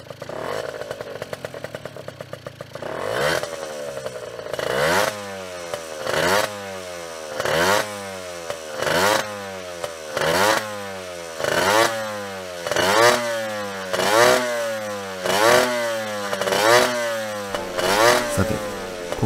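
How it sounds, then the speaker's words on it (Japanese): Honda NSR50 two-stroke engine started after a carburetor and silencer overhaul, exhaust crackling and ringing through repeated rising revs, about a dozen sharp throttle blips in a steady rhythm, loud and close with no talking. "少しだけですが、2サイクルエンジンの排気音をお楽しみください。"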